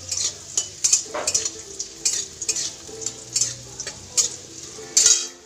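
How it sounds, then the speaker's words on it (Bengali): Boiled potatoes fry in a pan as a spatula scrapes and taps against the metal in a quick, uneven rhythm over a light sizzle, close and loud, with no voices. "তো আলুটা লাল লাল করে ভাজবো, ভেজে তারপর মগ ফিশটা ভাজবো"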